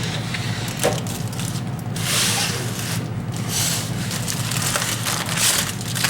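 Foil wrapped around smoked ribs is peeled open, producing continuous crinkling and rustling close by, with bursts of louder crackle.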